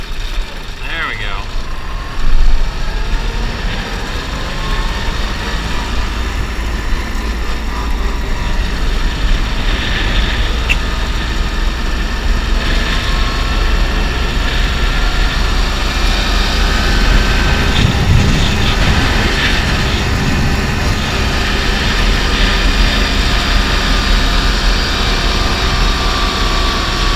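A New Holland TC30 compact tractor runs steadily while spreading chicken manure, its engine a constant loud drone close by for the whole stretch, with wind and mechanical rumble beneath and a brief louder bump early on.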